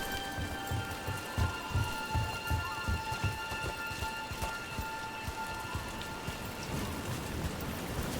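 Steady rain falls in the video game Dragon Age: The Veilguard, a dense, continuous patter with some heavier drops, heard alone for the whole stretch.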